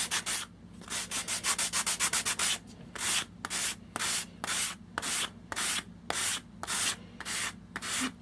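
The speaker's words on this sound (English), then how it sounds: "I'm just sanding cardboard, so can't go too crazy" Rhythmic hand sanding on the cardboard bottom of a miniature dollhouse drawer, a steady series of raspy back-and-forth strokes, quick at first then slower and even, close up with no talking.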